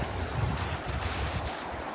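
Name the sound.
fast moving crystal blue water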